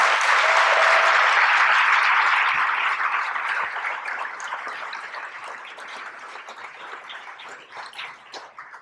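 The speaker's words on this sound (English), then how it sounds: "Let's give them another huge round of applause." Audience applause for honorees at an LGBTQ leadership awards ceremony, loud and full at first, then gradually thinning and fading into scattered claps.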